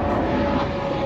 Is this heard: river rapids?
no